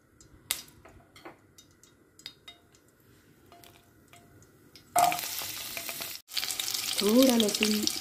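Cumin seeds hit hot oil partway through and set off a loud, broad sizzle that runs steadily to the end, briefly cut off once. Before that the sound is quiet, with only faint scattered kitchen clatter.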